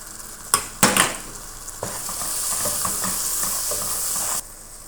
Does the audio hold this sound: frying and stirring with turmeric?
yes